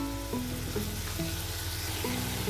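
Tomato and green chili paste sizzles steadily in a hot pan while kadhi pakora is being cooked, a continuous close frying hiss with no voices over it.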